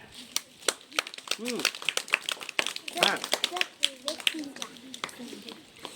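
A small group claps briefly for a student's effort in a Marathi spelling lesson, scattered uneven claps mixed with talking voices nearby.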